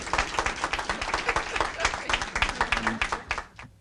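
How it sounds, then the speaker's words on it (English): A crowd at a healthcare facility opening in Suitland claps for the county executive, steady close applause of many hands that fades out at the end. "can you all give a big round of applause for our county executive"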